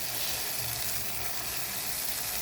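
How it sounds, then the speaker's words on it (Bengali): Chicken pieces hit a pan of cooked spice masala for chicken kosha, setting off a loud, continuous sizzle that stays close and unbroken throughout, with no talking. "আমার ভাবি এখন চিকেনগুলো দিয়ে দিচ্ছে"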